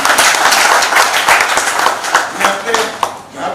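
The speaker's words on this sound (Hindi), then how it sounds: "जोरदार ताली बजाकर" A crowd at a public government event applauds loudly, dense continuous clapping that fills the space and rises and falls in waves, with a voice briefly audible under it.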